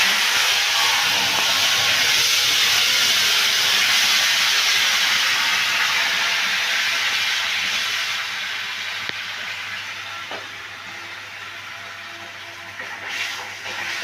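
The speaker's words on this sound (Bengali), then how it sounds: "এবার ওই তেলটার মধ্যে আমি এখানে যে পেঁয়াজ, টমেটো আর কাঁচা লঙ্কা বেটে রেখেছি এটা দিয়ে দিচ্ছি" A ground paste of onion, tomato and green chili hits hot oil and erupts in a loud, hissing sizzle that gradually softens and fades over several seconds, with no talking.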